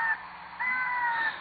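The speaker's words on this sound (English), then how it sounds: "Sounds like a crow bird to me." Crow cawing in Zelda Ocarina of Time, two harsh nasal caws, a short one followed by a longer drawn-out call, close and clear with nothing else heard.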